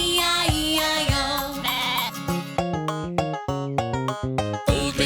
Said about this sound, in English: And on this farm he had a sheep